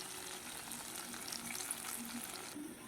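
A hot pan of sautéed potatoes hisses in a dense, continuous, fairly close sizzle after water is poured in. The sizzle eases slightly near the end.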